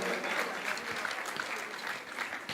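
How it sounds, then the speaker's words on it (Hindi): Loud, dense audience applause rises from a gathered congregation at a live Jain religious discourse, continuous clapping across the whole stretch without pause. "एक बार जोरदार तालियां उनके सम्मान में हो जाए।"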